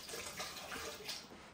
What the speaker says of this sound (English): I'm ready to fill it up with water